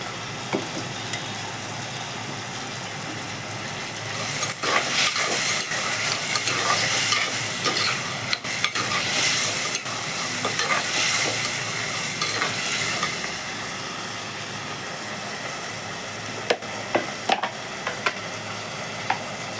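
Sliced brinjal sautéing in a hot pan with salt and turmeric for ennai kathirikai kulambu, giving a steady close sizzle with scraping stirs and occasional sharp clicks throughout, with no talking.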